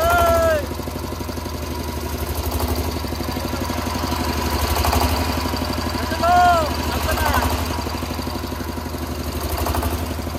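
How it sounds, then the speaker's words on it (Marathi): A generator started and left running, giving a steady mid-pitched engine throb with a rhythmic pulsing idle that holds at an even level for the whole stretch, a few faint chirps and voices in the background. "जनरेटर चालू झालं."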